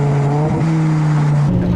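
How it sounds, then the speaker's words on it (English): A 2008 BMW M5 E60 with a naturally aspirated, high-revving V10 downshifts as it goes into a turn. The loud, close engine tone dips and then jumps to a new steady pitch, and a second shift comes near the end. "of course, over here we're gonna get into a turn, downshift over here"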